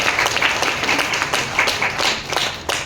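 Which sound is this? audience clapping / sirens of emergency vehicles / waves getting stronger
audience clapping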